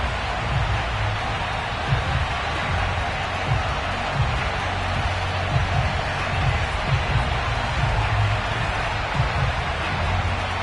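A Buffalo stadium crowd roars as the Bills take the field against the Cleveland Browns in an EA Sports football video game, making a dense, continuous wash of cheering that stays loud and steady the whole way through.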